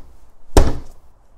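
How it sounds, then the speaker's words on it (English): A single hunting knife stab into a soft Kevlar vest, one sharp dull thunk with a short, close, muffled impact and no talk. "So I've got here my hunting knife, and I'm going to put a couple punctures through the vest"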